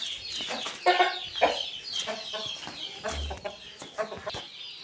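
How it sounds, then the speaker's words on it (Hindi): A white rooster clucking close by in a run of rapid, throaty clucks with brief pauses, fairly loud, alongside other chicken sounds and no talking. "ये साडा चिट्टा मुर्गा"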